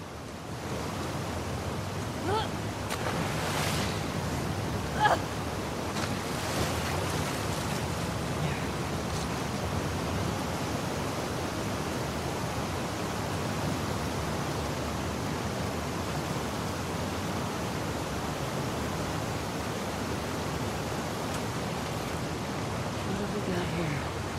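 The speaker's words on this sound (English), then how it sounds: "it remained in essence in the section swimming to the aquarium as Ellie, when you were avoiding the waves" Continuous ocean waves and surf wash around a swimmer in The Last of Us Part II, a broad steady rush with a few soft splashes near the start.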